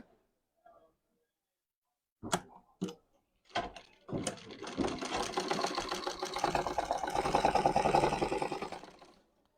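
A sewing machine stitching a trouser pocket starts with a few separate clicks and short bursts, then settles into a steady, close, fast whirring run that fades at the end.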